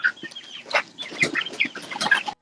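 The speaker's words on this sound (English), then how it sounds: "Those are very loud chickens." Loud chickens cluck close by in a busy, overlapping stream of short clucks and squawks that ends abruptly.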